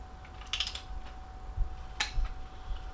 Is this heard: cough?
no